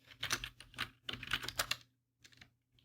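Computer keyboard typing while filling in a document in MS Word, two quick bursts of clustered keystrokes, then a pause and a shorter third burst, close and fairly quiet.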